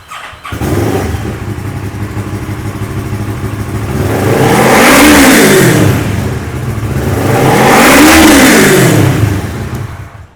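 Used Kawasaki motorcycle at a used-bike lot, its engine running close and loud at idle and then revved twice in long, smooth swells that rise and fall back.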